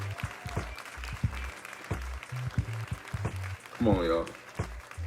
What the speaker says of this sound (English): give him a real quick round of applause once more